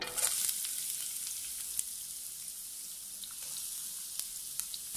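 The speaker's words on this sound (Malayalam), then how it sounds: "ഈ എണ്ണ ഒന്ന് ചൂടായി വരുമ്പോൾ അതിലേക്ക് നമ്മൾ അരിഞ്ഞു വെച്ചിട്ടുള്ള സവാള ചേർത്തൊന്ന് വഴറ്റിയെടുക്കാം." Chopped onion sautéing in hot oil in a pan, giving a soft, steady sizzle with a few faint stirring clicks.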